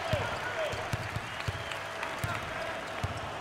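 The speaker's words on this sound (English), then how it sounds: "Standing ovation. You've got to love this reaction by the crowd." A basketball crowd gives a standing ovation, broad applause with scattered claps under a commentator's talk.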